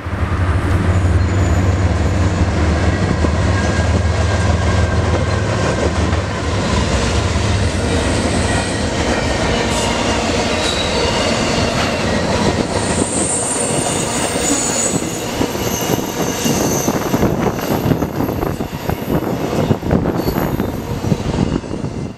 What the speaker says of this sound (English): Once that train was gone,